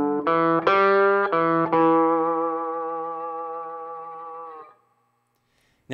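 A slide guitar lick with muting comes as a few quick plucked notes, then a sliding note that rings and slowly decays into silence, close and clean with no voices.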